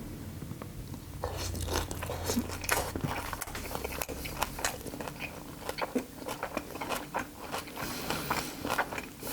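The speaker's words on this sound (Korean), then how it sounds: "오랜만에 홍어 삼합 한번 제대로 싸가지고 한번 먹어보입시다" Someone chews fermented skate samhap wrapped with pork and aged kimchi, close-up crunchy bites and wet mastication clicks in an irregular rhythm, fairly quiet with no talking.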